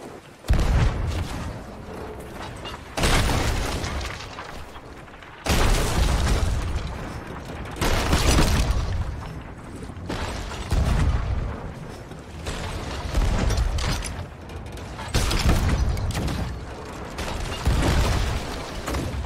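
Heavy booming ship cannon blasts at sea in a game, repeating every few seconds, each a loud broadband burst fading into rumbling noise.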